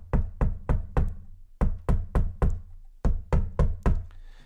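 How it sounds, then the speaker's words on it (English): Someone bangs on a side door in three bursts of sharp, hard knocks, each run of four or five quick raps, loud and close, with no talking. "So I start banging on the side door."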